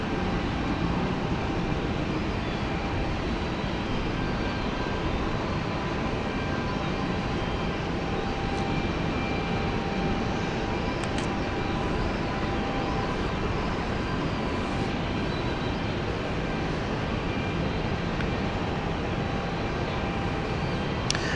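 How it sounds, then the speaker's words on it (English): A CityFlyer airliner on final approach for the Glasgow service at London City airport gives off a steady, broad jet roar. The roar stays constant and fairly close for the whole stretch, with no talking over it. "we've got a city flyer on final, which is the Glasgow flight"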